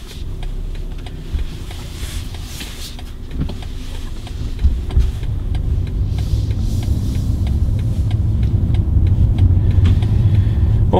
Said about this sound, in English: I'm gonna turn on the fan here.